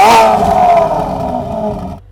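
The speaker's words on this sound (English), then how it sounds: "let's have a listen to what that exhaust sounds like" A Novitec-tuned Ferrari F8 Tributo sports exhaust roars loudly and close, one sustained blare that slowly falls in pitch and then cuts off abruptly.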